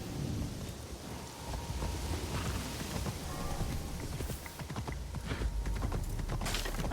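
Horse hooves clip-clop in Assassin's Creed Shadows, a steady trot of close, distinct hoof strikes over rain and a low rumble of thunder, running continuously for several seconds without talk.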